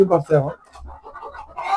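Desi chickens cluck on a poultry farm housing Fayoumi and Sonali hens, short clucks close by, with a person speaking over them.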